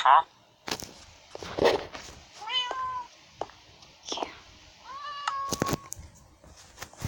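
Cat meowing repeatedly, several distinct close meows spaced through a few seconds, with soft whispered talk and light rustling between them.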